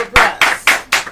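Loud, close claps sound in a slow rhythm of about five distinct strokes for contestants at a girls' secondary school oratory competition finale.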